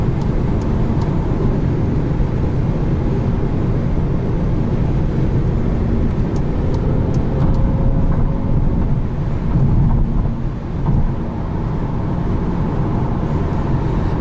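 A Porsche GT3 running just ahead on the road gives a steady, loud, broadband engine rumble that holds for the whole stretch with no one talking.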